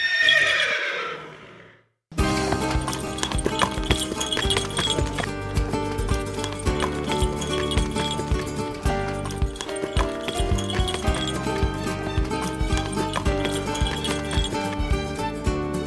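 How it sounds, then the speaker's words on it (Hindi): A horse gives a loud, wavering whinny that fades out, then rhythmic clip-clopping hoofbeats start and continue steadily under a dense, busy background. "और घोड़े के पुकार को नेई कहते हैं।"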